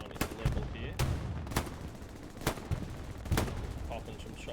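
Rifle fire in the World War II shooter Hell Let Loose on the Carentan map: sharp, loud single shots spaced about a second apart, with a busy battlefield rumble and faint distant crackle underneath.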